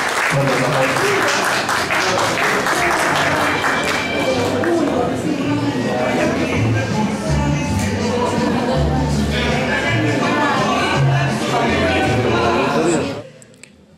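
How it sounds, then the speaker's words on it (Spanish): Strong applause from a crowd at a solemn awards ceremony for a civic parade, sustained loud clapping that runs nearly the whole stretch before cutting off abruptly at the end. "Fuertes los aplausos."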